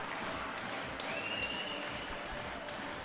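At a women's ice hockey semifinal, a large arena crowd roars and applauds in a sustained, dense wash of cheering, with no speech on top.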